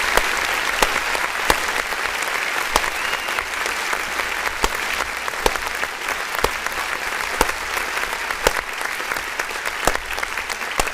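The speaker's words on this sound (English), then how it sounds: "Let me give him a full round of applause, right?" Steady round of clapping applauds a music beat, a dense continuous patter with sharp louder claps popping out at intervals, and no talking over it.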